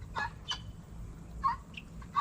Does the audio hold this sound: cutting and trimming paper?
no